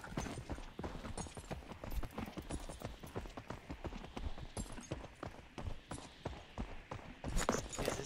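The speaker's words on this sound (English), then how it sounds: "Oh, you piece of shit horse!" Horse hooves pound in a rapid, steady galloping clip-clop throughout, close and clear, in the medieval video game Knightfall, with a voice briefly heard.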